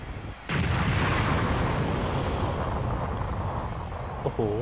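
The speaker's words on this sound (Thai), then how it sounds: "เบจิต้ายิง กระสุนพลังจิต ไม่ยั้งทางที่มีผู้ชมอยู่หลายรอบ" Vegeta's ki energy blasts exploding in a Dragon Ball Z battle, a loud, sustained roar of rapid-fire detonations and rumbling with no gaps.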